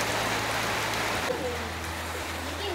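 Rain falls steadily over the misty hills of Ramakkalmedu in Idukki, a soft, even outdoor hiss with faint high chirps in the background and no talk.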